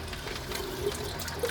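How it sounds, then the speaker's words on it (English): Liquid, likely acid etchant, is poured back into a container over baking soda in a knifemaking workshop, a soft steady trickle and splash, close and fairly quiet, with no talking. "Let's see if we can pour it back in there without making a mess."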